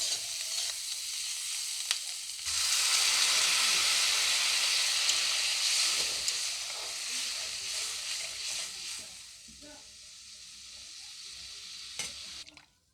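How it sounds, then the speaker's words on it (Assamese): Water poured into a pan of spices and potatoes frying in oil sets off a loud, hissing burst of sizzling and steam that gradually settles into a softer bubbling fry, with brief clatters. "আৰু এতিয়া মই এড কৰিম পানী"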